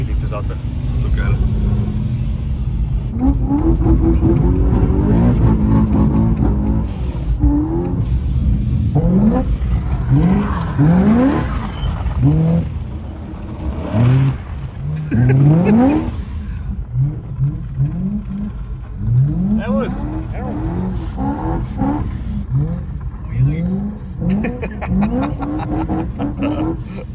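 BMW M3 engine revving hard while the car slides sideways, with rising and falling engine pitch sweeps and a constant rumble, loud and close, under someone talking throughout.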